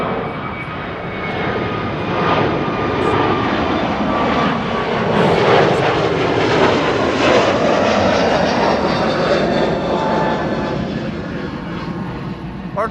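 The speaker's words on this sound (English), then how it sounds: "Next airplane taking off from runway 24 is going to be JetBlue flight" A JetBlue airliner takes off from runway 24 at Amsterdam Schiphol, its engine roar loud and steady throughout, swelling slightly midway as the jet climbs past.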